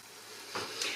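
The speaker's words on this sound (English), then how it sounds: "this is what it should be doing, just sizzling" Steady frying sizzle from falafel in hot oil, a constant crackling hiss with a slightly brighter burst near the end.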